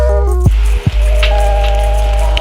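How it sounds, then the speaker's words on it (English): Strong wind buffets with a heavy, constant low roar while rain patters steadily across the Appalachian Mountains, with a few sharp gusts cutting through close by and no one speaking. "So much wind and rain."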